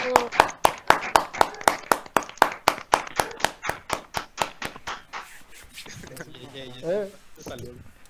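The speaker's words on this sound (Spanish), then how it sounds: "Les pido que prendan su micrófono por una vez en estas sesiones y les aplaudan." Close, crisp claps in a quick even rhythm come through open microphones during an online class, then stop after about five seconds as voices begin talking.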